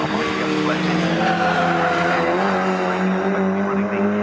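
Classic race cars with A-Series engines at Snetterton: loud, continuous rising and falling engine whines with tire squeal and skidding as they lap close by, while a voice speaks faintly underneath.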